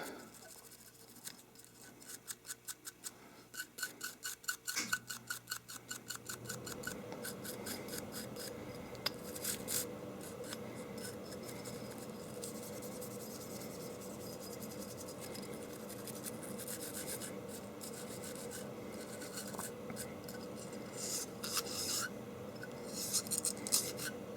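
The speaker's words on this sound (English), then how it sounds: "Go ahead and clean off that ramp." A nylon brush scrubbing the feed ramp of a Baby Desert Eagle II 9mm pistol, with quick, close scratchy strokes in bursts at first, then a steadier continuous rasping scrub.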